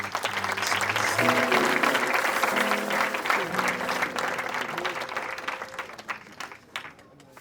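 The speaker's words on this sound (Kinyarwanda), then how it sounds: "mbere Imana amashyi yaduhaye" A congregation at a church gathering applauds in a loud, sustained burst of many hands. Voices and faint tones mix in beneath it, and the applause fades toward the end.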